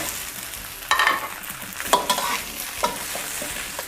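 Shrimp balls and Taiwanese bok choy are stir-fried in oil, with a low sizzle under sharp, close spatula scrapes and clatters at about one-second intervals, no voices.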